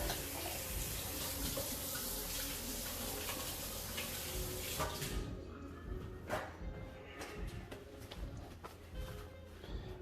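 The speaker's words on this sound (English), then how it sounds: "Wash your hands real good." Tap water runs steadily into a kitchen sink while hands are washed after handling egg whites, a continuous splashing stream that turns more broken and uneven partway through.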